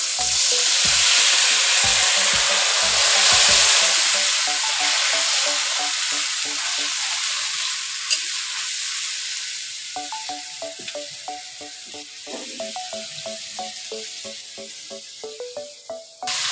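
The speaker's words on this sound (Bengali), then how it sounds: "এখন জল দিয়ে, হালকা জল দিয়ে মশলাটা কষবো।" Spice paste fries in a pan with a splash of water for a fig curry, first a loud hissing sizzle that gradually softens, then scraping and stirring strokes continue near the microphone.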